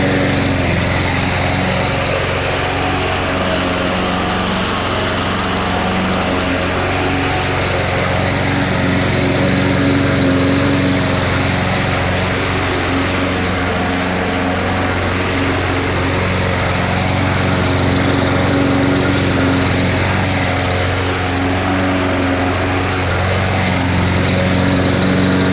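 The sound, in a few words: lawn mower engine running while mowing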